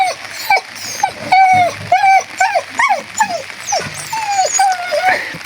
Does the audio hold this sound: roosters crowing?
no